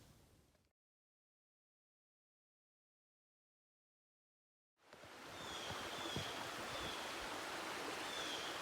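A mountain creek along a trail, Berkshire Creek, rushing steadily; a short burst of flow is cut off by several seconds of silence before the constant, moderately loud water noise resumes.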